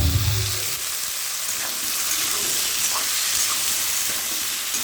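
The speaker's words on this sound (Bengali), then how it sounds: "দেখো আলু কচুটা ঢেলে দিলাম।" Taro and potato hit a hot frying pan used for a prawn curry, with a brief low thump at the start and then a steady, close sizzle that runs on.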